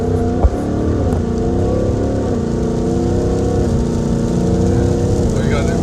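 A 2019 Ford Mustang GT V8 cruises at a little over 2,000 RPM, its steady, loud low rumble filling the cabin with a constant drone and no talk over it.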